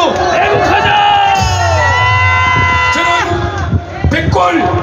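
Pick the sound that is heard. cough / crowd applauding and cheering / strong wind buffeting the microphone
crowd applauding and cheering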